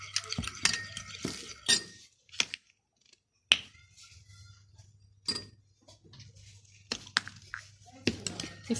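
A spoon clinks against a bowl while a homemade cucumber skin serum is mixed, giving scattered sharp taps and scraping stirs close by, with a low steady hum and a voice talking in between.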